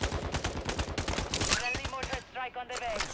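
Rapid video game gunfire crackles in quick bursts, loud and close, with a player's voice talking over the shots and a short lull near the end.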